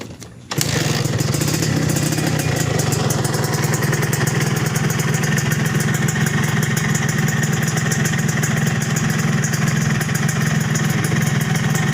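A 2005 Suzuki Satria Hiu two-stroke motorcycle starts and then idles steadily, a loud close buzzing putter holding an even rhythm throughout.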